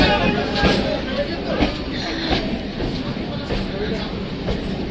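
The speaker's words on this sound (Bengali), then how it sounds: "ট্রেন চলে গেল আমাদেরকে ছেড়ে। এটা লোকাল ট্রেন ছিল।" A local train pulls away from a station platform with a steady, loud rumble and rattle of wheels on track, continuous throughout and mixed with crowd murmur nearby.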